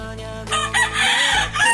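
Chickens cluck and a rooster crows close by in a backyard, loud and clear, with layered bird calls filling the short stretch.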